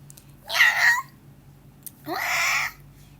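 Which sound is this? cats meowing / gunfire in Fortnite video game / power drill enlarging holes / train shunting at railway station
cats meowing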